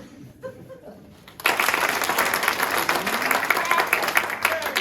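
A live radio studio audience bursts into fast double-rate applause after a quieter moment, a sudden loud dense clatter of clapping that carries on steadily to the end.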